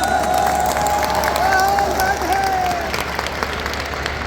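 Applause and cheering from a large crowd at a political rally, a dense steady wash of clapping and voices that fades slightly toward the end, with faint tonal sounds over the top.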